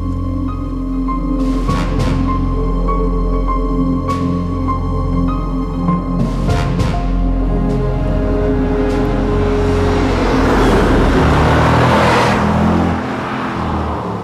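An Audi S5 drives along with a steady engine drone from inside the cabin, its low, smooth hum rising slightly at points, and road and wind rush build toward the end.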